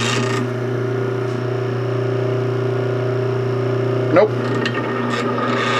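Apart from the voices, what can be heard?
rattle from the adjustment on a South Bend toolpost grinder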